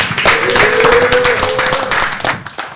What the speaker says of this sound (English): clap it up for Rage